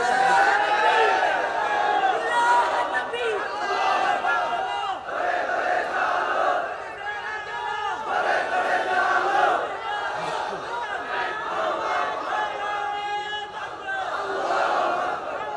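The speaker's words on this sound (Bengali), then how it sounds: "এখন তাকবীর দেওয়া দরকার, জোরে তাকবীর দেন।" Large crowd at an outdoor Bangla Islamic sermon gathering loudly chanting the takbir together in sustained unison, voices rising and falling in waves for the full stretch.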